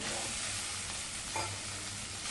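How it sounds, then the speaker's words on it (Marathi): Potato pieces sauté in hot oil with green chilli paste and a pinch of asafoetida, a steady close sizzle and crackle with a brief stirring scrape. "चांगल्या तेलावरती परतवून घेऊया"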